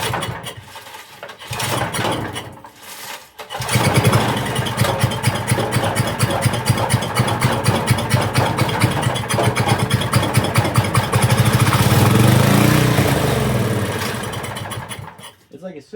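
A small engine with a governor sputters, catches and runs with a steady rough drone, surges louder near the end, then dies out. Loud and close, with no talking.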